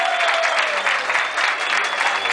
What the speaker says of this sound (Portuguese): Todas as meninas recebendo os aplausos